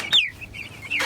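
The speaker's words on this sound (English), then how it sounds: "the chicks are having fun and they're loving it. They're fluttering around, already pecking at the ground." Meat bird chicks in a chicken tractor, giving a few short, close chirps and peeps with soft movement between them, brief and fairly quiet.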